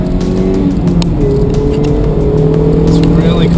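A 2016 Mazda MX-5 engine hums steadily with a rising tone as the roadster is driven through turns, continuous and fairly close throughout, with road noise beneath.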